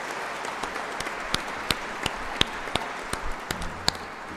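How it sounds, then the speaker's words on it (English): An audience claps for a teacher at a live event honouring saints Dnyaneshwar and Tukaram, with steady, moderately loud applause and a few sharp individual claps standing out nearby, without speech. "give him the big clap."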